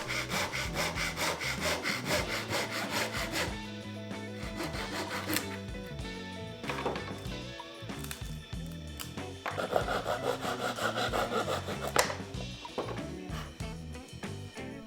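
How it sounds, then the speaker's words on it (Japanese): A hobby blade carefully cuts a Gundam model kit canopy part, giving steady, close scraping and rasping strokes that continue over several seconds with occasional sharper clicks and no speech. "刃が逃げてねいらないところを傷つけないように慎重に切っていきます"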